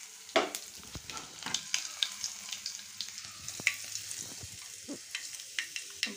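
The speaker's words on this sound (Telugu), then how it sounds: "పోపు అయితే పెడుతున్నానండి." Tempering spices for gongura chutney crackle and sizzle in hot oil in a small pan, a steady close hiss dotted with sharp pops and stirring clicks, and no one speaks.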